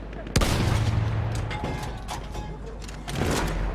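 A game cannon fires a single heavy shell, a loud sharp blast at the start that rolls into a rumbling tail, followed by battle noise and scattered distant shots with a voice talking over it.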